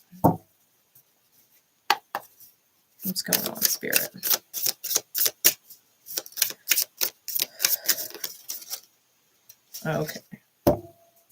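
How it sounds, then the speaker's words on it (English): A deck of playing cards is shuffled in quick riffling bursts of crisp clicks, with brief spoken remarks before and after. "I like the way these cards shuffle."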